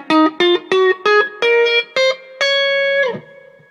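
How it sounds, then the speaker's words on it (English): A D natural major scale played note by note on an electronic instrument, seven short evenly spaced tones climbing in pitch before a longer held final note, loud and close with no talk. "I'm going to play the regular natural scale in D first."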